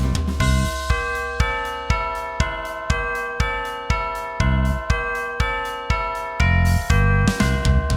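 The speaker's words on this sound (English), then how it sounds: "I play the bells." Bells ringing out a bright, evenly paced melody in a children's nursery rhyme song, each struck note sounding in steady rhythm over a full musical backing, loud and with no voices.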